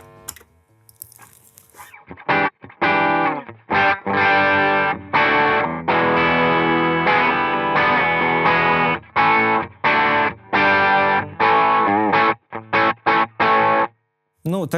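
Electric guitar through the crunch distortion preset of a Zoom G2X FOUR processor, gritty chords strummed in short bursts with brief gaps, loud and close, played alone without speech.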